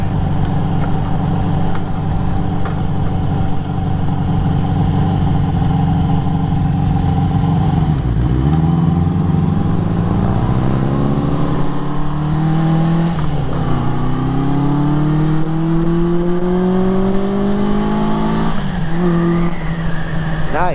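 A 1973 Honda CB350 Four motorcycle engine runs continuously while riding, loud and close, with repeated rising and falling revs through gear changes under a steady rush of wind.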